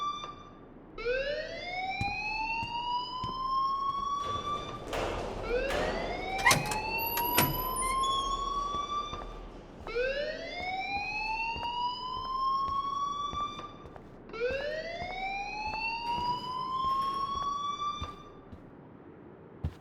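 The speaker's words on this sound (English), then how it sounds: "please turn off that alarm since that's your job" Electronic alarm in the video game Life is Strange, rising whooping siren tones repeating in four long sweeps, steady and fairly loud with no voices.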